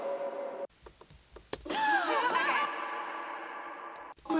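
Heavily filtered background vocals drenched in reverb in a minimal techno track, with smeared, echoing tones and sweeping pitch over clicky percussive textures, continuous and moderately loud.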